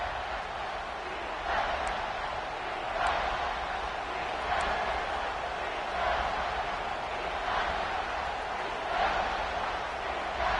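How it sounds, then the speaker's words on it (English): A home crowd at a Michigan versus Ohio State football game roars in a steady wash of noise that swells periodically, with an announcer talking over it. "The crowd getting behind this defense as they try to get a stop in the red zone."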